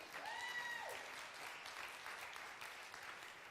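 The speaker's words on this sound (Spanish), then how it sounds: "Denle ese aplauso al Señor." A church congregation breaks into steady applause that holds evenly throughout, with a brief voice or tonal sound near the start.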